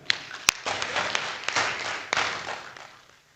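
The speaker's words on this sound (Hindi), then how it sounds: "एक बार इसके संचालन के लिए तालियां बजा दे।" Clapping from the audience at a Hindi kavi sammelan poetry gathering, a quiet, scattered round of hands with a few sharp louder claps standing out before it fades away.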